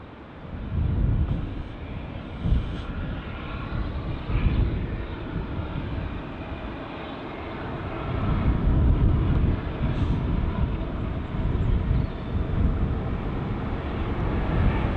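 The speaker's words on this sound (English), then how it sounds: "keep an eye on this Delta A330 taxiing into stand 336 right in front of us." A Delta Airbus A330 taxis toward its stand at Heathrow Airport, giving a continuous low engine rumble and whine that swells somewhat in the second half, heard from nearby with no talking.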